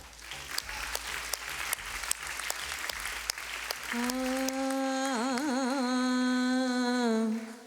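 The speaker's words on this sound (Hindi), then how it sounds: "जोरदार तालियां हो जाए" A studio audience claps on a kids' singing show stage, with scattered, moderately loud applause that gives way after about four seconds to a sustained sung note backed by music.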